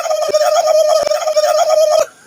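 A turkey gobbles loudly and close at a nature campsite, a continuous rattling call broken by a few sharp knocks, then trailing off into quiet.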